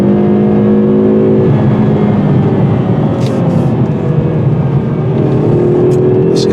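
A 2019 Hyundai Veloster N turbo engine roars loudly and continuously up close, pitch climbing under hard acceleration, with a gear change partway through before it pulls again.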